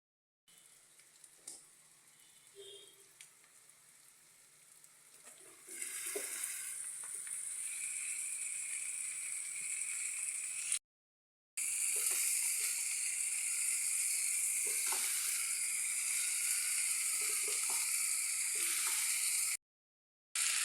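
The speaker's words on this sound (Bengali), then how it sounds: "এবার 1 মিনিট মতো এটা ভেজে নেব।" Vegetables fry in a pan with a steady, dense sizzle that swells loud after a quieter start with a few stirring clatters, continuing as a constant close hiss.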